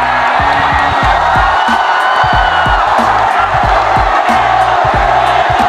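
A crowd at a battle rap event roars and whoops in sustained cheering, loud and continuous, with a pulsing low beat underneath.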